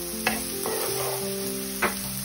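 Green chilies frying in a small amount of oil for Indian-style gobi manchurian, a brief, steady sizzle with two sharp spatula taps, a low hum underneath and no speech.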